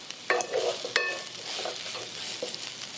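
Onions fry in a pan for vegan rasta pasta, a soft steady sizzle with a few sharp clinks and scrapes of a utensil stirring, close and fairly quiet.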